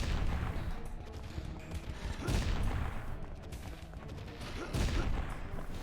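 Shotgun blasts in the video game Jak and Daxter: The Lost Frontier, several loud booming shots at intervals over a dense, noisy game soundscape with scattered gunfire textures.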